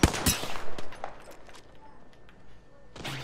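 Apex Legends gunfire: a close burst of rapid shots at the start, then scattered bangs and game effects over a low hum, with another burst at the end, loud and without talk.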